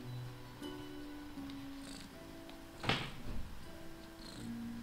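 Cat purring in the video game Death and Taxes, a soft, low continuous rumble under faint game music, with a brief louder rustle partway through.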